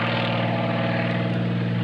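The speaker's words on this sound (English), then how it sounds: "keeping that engine at full power" The engine of the Samson biplane drones at full power during an airshow performance, a loud, steady, continuous roar with no voices.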